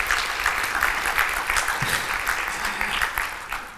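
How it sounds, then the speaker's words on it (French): An audience applauds steadily to welcome a person onto a stage at a professional conference, with dense, even clapping that holds throughout and fades slightly at the end. "J'invite sur scène Myriam Mèche,"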